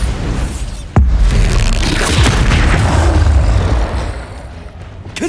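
A loud Bombarda spell explosion in Hogwarts Legacy hits with a sudden heavy boom, then a sustained roaring rumble and debris that fade after a few seconds.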